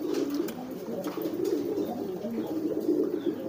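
A domestic pigeon coos in repeated low, throaty, rolling phrases close by in a loft, steady and unbroken, with no talk.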